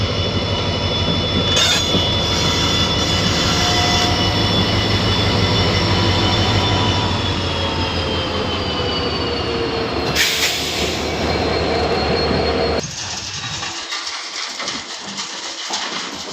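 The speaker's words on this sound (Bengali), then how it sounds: "দেখতে পাচ্ছেন নতুন লাইনে পাথর গাড়ি ঢুকছে" A diesel locomotive hauls loaded stone wagons onto a newly laid rail line, rumbling loudly and steadily close by with rolling wheels and thin metallic squeals, then cutting to quieter trackside ambience.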